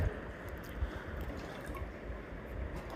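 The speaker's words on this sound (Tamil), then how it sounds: "இன்னொரு பாத்திரத்தில் பாலெல்லாம் சேர்த்துட்டு" Milk pours steadily into a pot with a soft continuous trickle and faint splashing, close by, with no talking.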